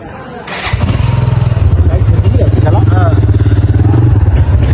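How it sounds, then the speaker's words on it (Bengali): A motorcycle engine starting and settling into a steady, close idle putter, with people talking over it. "সাথে বাইক স্টার্ট করতেছে"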